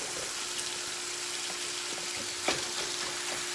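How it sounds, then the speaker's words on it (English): Ground meat browns in a pan, giving a soft, steady sizzle with a few small pops and one brief clatter near the end, fairly quiet with no talk. "Go back to our browning of meat,"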